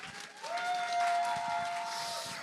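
An audience at an evening lecture applauds and cheers on a rainy night, a soft, continuous wash of clapping and crowd noise that swells slightly in the middle and stays fairly distant.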